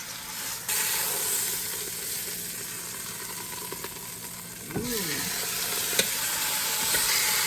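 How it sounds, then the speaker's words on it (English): Brisket sears fat side down in a hot pan for a brisket burger, giving a steady, loud sizzle and frying hiss that runs the whole time, with a brief stir and a few small clinks near the end. "So the fat down, and I want to sear it first."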